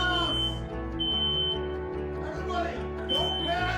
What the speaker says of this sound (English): I may have set off a couple smoke alarms